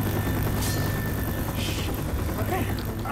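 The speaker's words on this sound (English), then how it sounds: "I hear a helicopter. Holy shit, that helicopter is always so loud." A loud helicopter hovers close overhead in the zombie shooter Left 4 Dead 2, its thick rotor roar filling the scene continuously.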